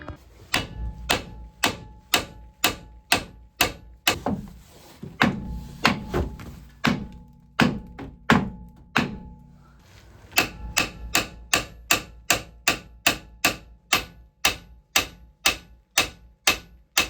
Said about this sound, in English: now we need to bash out the triangle to get it off and then pull it out